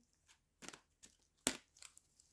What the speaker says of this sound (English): I'm going to just shuffle them